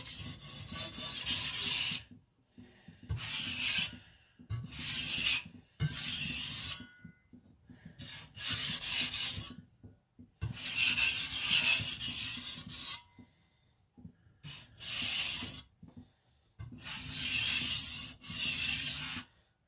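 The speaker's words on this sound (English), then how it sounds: "And now I'm just reducing the burr." A knife edge is deburred on a flat sharpening stone in repeated rough, scraping strokes of one to two seconds each, separated by short pauses, loud and close with no voices.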